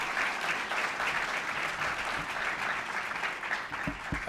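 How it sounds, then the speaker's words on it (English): An audience at a university lecture event gives a round of applause as committee members stand, a dense, fairly distant wash of clapping heard alone at moderate level. "please stand so we can give you a round of applause."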